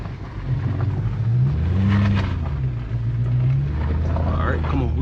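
BMW F90 M5 engine drifting sideways in fourth gear off a dirt road, a loud throaty drone rising and falling in pitch as the revs swing, heard from inside the car with someone talking over it.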